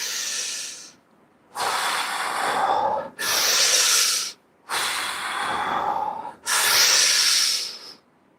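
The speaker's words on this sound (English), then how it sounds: "Breathing deeply, oxygenating the body." Slow, deep breaths close to the microphone, with four long, loud, airy inhale and exhale cycles separated by short pauses.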